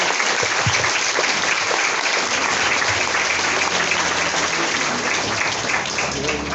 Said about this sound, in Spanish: quiero pedirles a todos ustedes que le den un fuerte aplauso aquí al profe Santillán